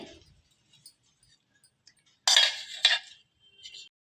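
A spoon taps and scrapes in a pan or bowl while cooled tempering goes into curd poha, two or three short metallic clinks close up in an otherwise quiet kitchen.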